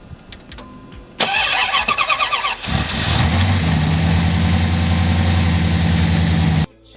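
A 5.2-liter Dodge Magnum V8 truck engine cranks with a rapid starter whir, then catches and settles into a loud, steady low idle before cutting off abruptly.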